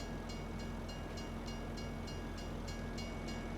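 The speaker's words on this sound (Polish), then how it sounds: "No a jak przejdziemy przez tory, pociąg przyjedzie." A train in Farming Simulator 25 rolls past a level crossing with a steady rumble and a regular rhythmic clatter of wheels, continuous and fairly even in loudness.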